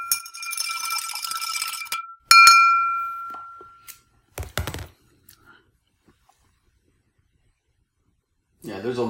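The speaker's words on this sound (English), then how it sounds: "Let's give it another stir here." Spoon stirring C4 Pink Lemonade pre-workout drink in a glass, bright ringing clinks against the glass followed by quieter taps, with a voice speaking briefly at the end.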